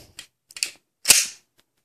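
An HK pistol with an LEM trigger is dry-fired, giving light mechanical clicks of the take-up followed by one crisp, sharp snap of the trigger break, close and otherwise quiet.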